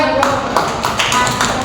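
Classroom applause, a burst of sharp, uneven hand claps from a small group close by, with some voices mixed in under the clapping.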